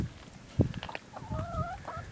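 Chickens in a backyard coop giving a few soft, close clucks and low throaty calls, with a short tremulous rising call near the end, heard alone without talk.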